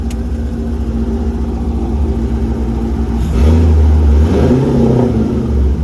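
An LS V8 engine swapped into a BMW E46 with a Holly Terminator X install idles with a low, steady rumble, then revs up into a deeper, louder roar before settling back to a throaty hum.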